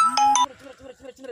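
A phone ringtone plays a short bright melodic phrase during a fishing outing, then cuts off abruptly after about half a second, followed by low, murmuring voices.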